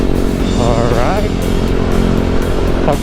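A motorcycle engine runs steadily with the throttle applied, its loud, close drone rising briefly as it revs, while a person talks over it.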